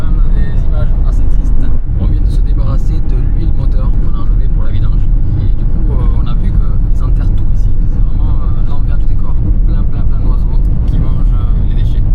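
A camper van pulls away and drives along the road, its engine and road noise rumbling steadily and loudly throughout, with people talking over it.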